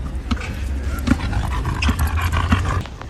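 A dog pants loudly and whimpers while being pulled by the tail. Quick rhythmic breaths blend with a low rumble and short whines, close up and continuous.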